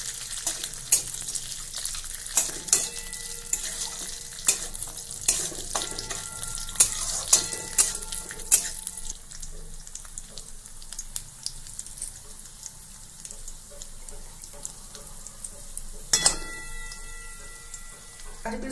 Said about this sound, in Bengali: কড়াইতে সরষের তেল দিয়ে কাজু কিশমিশগুলোকে ভেজে নেব।